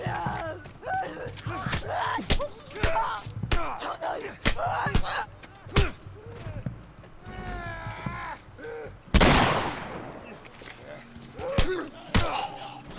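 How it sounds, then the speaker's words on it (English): Sharp gunshots ring out in The Last of Us, some as single cracks and some in quick clusters with one large blast near the middle, under excited voices. "Shoot the gun!"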